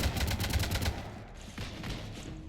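Gunfire in the Mass Effect 3 video game strafing a ship, heard as a quick rhythmic burst of shots at moderate level that gives way to a low rumbling ambience.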